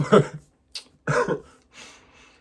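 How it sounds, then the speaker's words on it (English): A few harsh, close coughs in quick succession, separated by brief silences. "Excuse my cough right there."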